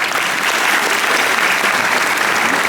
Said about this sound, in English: Shall we join me to give a big round of applause to the both speakers?